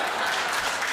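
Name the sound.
audience applause at a comedy poetry event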